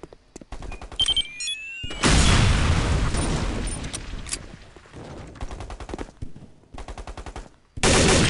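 In Counter-Strike: Condition Zero Deleted Scenes, an explosive charge blows a wall apart with a loud, sustained blast, surrounded by bursts of rapid gunfire before and after.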